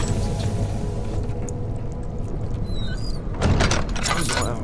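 Door in Amnesia: The Dark Descent sliding and thudding shut near the end, over low dark ambient drone, with a person's voice heard faintly in the background.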